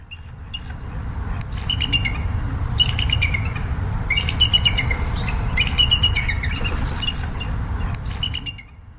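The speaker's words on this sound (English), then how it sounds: "Their territorial laughing chorus, often performed at dawn and dusk, serves to establish territory boundaries" An Australian bird's territorial laughing chorus, as given at dawn or dusk in the bush, comes as repeated bursts of loud, overlapping cackling calls over a steady low rumble of background noise.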